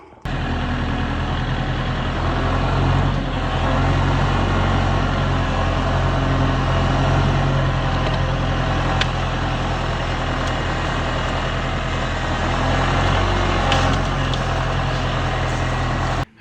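A Kubota L4060 tractor drags a log out of the woods on a strap, its diesel engine rumbling steadily and loud throughout with a constant low drone.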